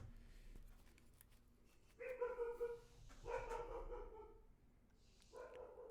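A dog barks indoors in a quiet room, two short bursts of yapping followed by a fainter bark, moderately distant and alone without talk.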